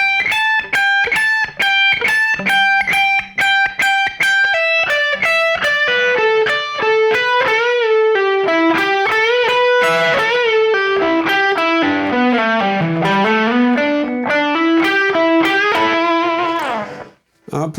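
A blues lick on distorted electric guitar, picked slowly with hammer-ons and slides, rings out as a loud, continuous line of notes stepping downward before cutting off abruptly at the end.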